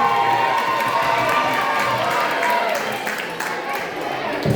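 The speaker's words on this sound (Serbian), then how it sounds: "Pozdravimo ih jednim aplauzom" Applause and cheering for quiz teams in a primary school hall, a steady roar of crowd clapping and children shouting, loud and sustained, with a voice heard in the mix.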